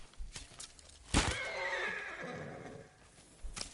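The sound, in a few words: horse neighing in video game Ghost of Tsushima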